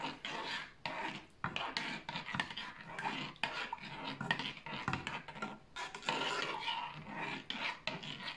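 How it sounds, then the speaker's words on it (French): Homemade toilet cleaner gel is stirred in a container, giving continuous quiet scraping and rubbing strokes with small clinks for several seconds, close by and without talking. "Donc, on remue bien."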